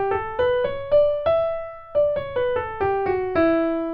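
E Dorian scale played note by note on a melodic instrument, about a dozen evenly plucked or struck tones stepping up and then back down, each decaying quickly, clear and close with no voices.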